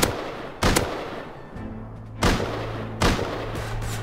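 Gunfire in the survival game Rust, with three or four sharp, loud shots spaced unevenly over a quiet, humming background and no talking.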